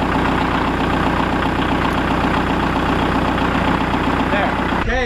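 Tractor engine idling in neutral, a loud, steady low rumble with an even throbbing pulse close by, ending in a brief clatter at the very end.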